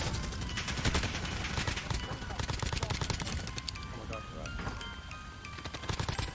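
Rapid gunfire bursts from the video game Warzone, dense overlapping shots and automatic fire crackling steadily through the whole stretch, with players talking over the action.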